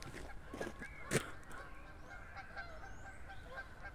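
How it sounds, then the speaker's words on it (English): Geese honking beside a reservoir, a few short nasal honks rising over a steady outdoor background, moderately distant and fairly faint. "One of our geese friends."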